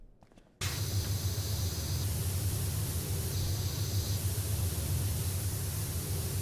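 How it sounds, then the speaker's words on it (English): Pressure washer nozzle spraying in PowerWash Simulator 2: a steady, loud broadband hiss of water jet that starts abruptly after a brief quiet moment and holds constant, with slight shifts in spray tone. "The adaptable nozzle can change size of spray."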